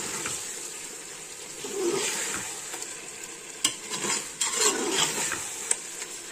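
Eggs are stirred into a sizzling gravy for egg biryani, a soft frying hiss broken by scraping spoon strokes and a few sharp metallic knocks against the pot, no voices.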